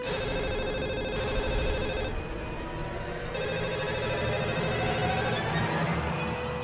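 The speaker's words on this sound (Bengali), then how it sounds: "মনে হয় জিতের ফোন।" A telephone rings steadily and continuously in an indoor scene from a Bengali TV serial, the repeating electronic bell loud and close with no talk over it.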